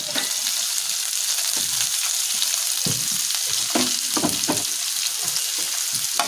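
Chopped onion hits hot oil with whole garam masala, a loud, steady sizzle broken by bursts of stirring and crackle, close up with no voices.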